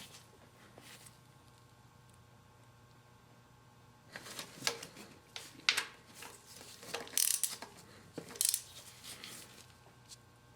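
Quiet ratchet clicks tighten the three small bolts holding a VTEC solenoid to the valve on a Honda Accord, coming in short close bursts after a few seconds of near silence, with no talking.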